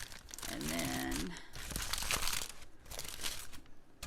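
Plastic wrapping crinkles and tears as a tumbler is pulled free of its packaging, the rustling continuing on and off at close range, with a short stretch of speech partway through.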